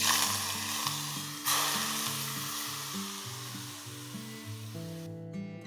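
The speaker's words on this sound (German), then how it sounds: "Das Öl stark erhitzen. Dann auf Lauchzwiebel, Knoblauch und Ingwer übergießen." Hot oil poured onto scallion, garlic and ginger, setting off a loud, steady, close sizzle that holds for several seconds over quiet background music.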